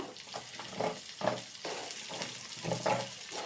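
Onions and potatoes sizzle in a pan with repeated scraping and stirring strokes in an uneven rhythm, moderately quiet and close, without speech.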